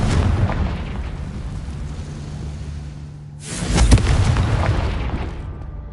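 Confringo blasting-curse explosion in Hogwarts Legacy: a sudden booming burst after a rumbling lead-in, followed by a sustained roar that slowly fades.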